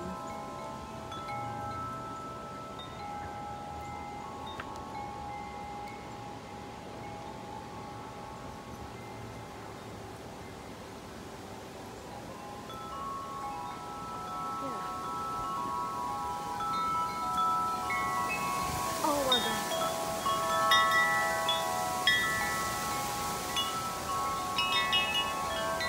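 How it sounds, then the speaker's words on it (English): Steady wind blowing on a windy evening, a soft continuous rush with faint rustling that slowly builds louder toward the end, with no voices. "Back to wind again."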